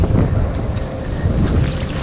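Loud, steady rush of water pouring through a large crack in rock in Scotland, a broad continuous roar with some wind buffeting, no voices.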